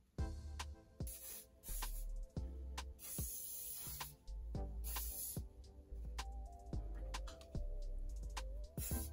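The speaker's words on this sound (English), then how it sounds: "do I spray this first before I brush it out?" Hairspray misted onto curled hair in repeated short hissing bursts, close and fairly loud, separated by brief pauses.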